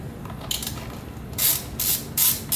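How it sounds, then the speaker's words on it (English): A socket ratchet with an extension backs out 13 millimeter bolts on a chainsaw cover, giving close, rapid clicking bursts in several short runs over a steady background hiss. "we're going to take these two 13 millimeter bolts off right here."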